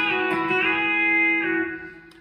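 A B-bender electric guitar plays a short bass lick in E, a run of clear sustained picked notes with bent pitches that ring out and fade over a couple of seconds, with no voice over it.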